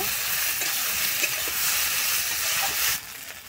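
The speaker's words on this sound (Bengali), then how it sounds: "আমি জিরে, কাঁচা লঙ্কা আর গোলমরিচটা কিন্তু এখানে একটু খুব ভালোভাবে কষিয়ে নেব" Ground cumin, green chili and black pepper frying in a pan for a Bengali tangra fish curry, giving a steady, close sizzle and hiss that carries on evenly before easing slightly near the end.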